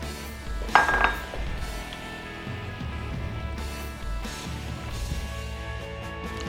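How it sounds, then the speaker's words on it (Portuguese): A utensil stirs cauliflower purée with grated parmesan in a pan: quiet scraping and a few sharp metallic clinks near the start, then soft intermittent knocks against the pan. "Agora vamos misturar e vou colocar o restante do parmesão."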